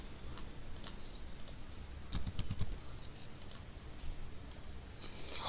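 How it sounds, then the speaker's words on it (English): Rapid keystrokes on a computer keyboard come in a quick burst around the middle, close and fairly soft, with lighter scattered taps before and after against a low background hiss. "Looks like I was typing so fast here"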